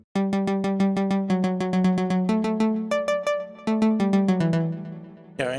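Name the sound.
White Plug synth preset in FL Studio 21 Flex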